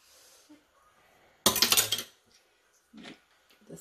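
A utensil clinks and scrapes against a bowl while mixing cheesecake batter with vanilla, one brief burst of clattering followed by a quieter tap, close and otherwise near silent.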